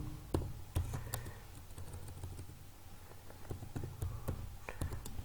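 Someone types on a computer keyboard at a steady, irregular pace, with soft close key clicks and a few louder taps, quiet with no talking.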